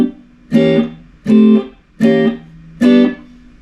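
A jazz turnaround in G played on guitar: four strummed chords, each ringing about half a second with short gaps between them, loud and close with no voice.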